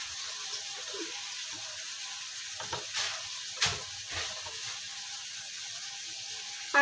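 Onion fries in oil on a stove, a soft, steady background sizzle with a few scattered clatters and knocks, and a louder bump at the very end.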